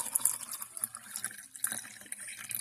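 Water poured into canning jars packed with raw chicken, a short close splashing and trickling stream with small gurgles as the jars fill.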